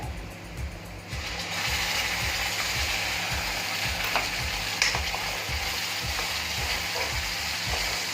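Ground masala sautéing in oil, a continuous close sizzle with a regular, ratchet-like scraping rhythm as the spatula works the mixture around the pan.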